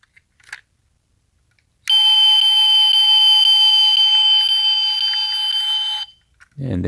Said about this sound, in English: And then there's like an alarm sound.